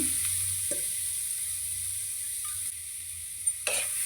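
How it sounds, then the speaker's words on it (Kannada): Grated carrot fries in ghee after almonds and raisins, giving a soft, steady sizzle with a few light scrapes and taps, and no voices. "ಇವಾಗ ತುರಿದಿರುವಂಥ ಕ್ಯಾರೆಟ್ನ ಹಾಕ್ಕೊಂಡು ಫ್ರೈ ಮಾಡ್ಕೊಳ್ಳೋಣ"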